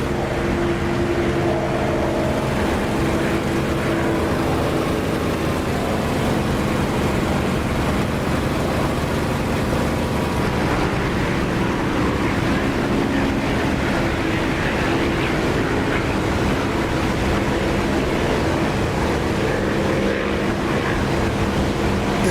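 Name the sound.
enemy aircraft engine in DCS flight simulator video game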